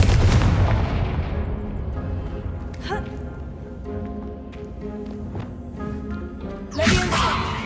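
A Confringo blasting curse explodes in Hogwarts Legacy with a loud booming blast that rumbles away, then sharp magical whooshes and clinks follow, ending with another burst.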